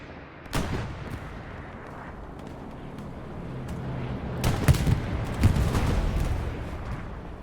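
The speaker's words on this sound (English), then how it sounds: "Tank battle." Tank battle gunfire in a video game: a loud cannon report near the start, then a rumbling battlefield bed with several heavier blasts and shots clustered toward the end.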